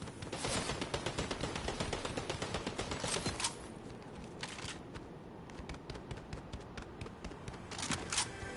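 Fortnite gunfire rattles in fast automatic bursts, a dense stream of sharp shots for the first few seconds, then scattered single cracks and short bursts at a lower level, with no talking.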